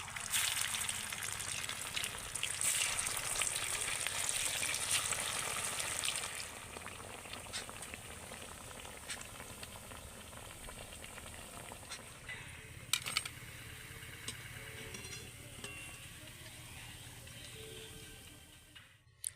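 Raw potato snacks deep-frying in hot oil give a steady, dense sizzle that is loudest at the start and eases slightly, with a few small clinks partway through and no talking.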